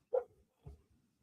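A dog gives two short barks about half a second apart, the first sharper and louder, the second lower and softer, heard fairly close in an otherwise quiet room.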